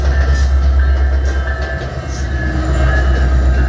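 A double-decker diesel metro commuter train crosses a rail-road crossing gate in Illinois, passing close and loud with a continuous deep engine rumble, wheel roar and faint clatter.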